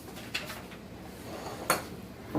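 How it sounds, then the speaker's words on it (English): A spoon stirs applesauce muffin batter in a bowl, giving a few scattered clinks and scrapes against a soft, steady background hiss. "So I can actually just use this spoon and mix it all together."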